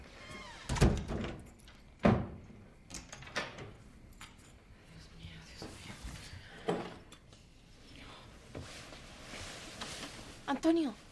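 A door thuds shut, followed by keys jangling and a lock being worked, with a couple of sharp knocks and clunks spread across the moment while voices speak around it.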